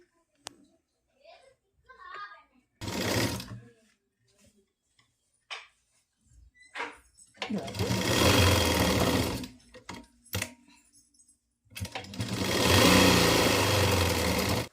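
An electric sewing machine stitching a pleated nighty whirs in short, close bursts of rapid stitching that alternate with quieter gaps where someone talks and fabric is handled.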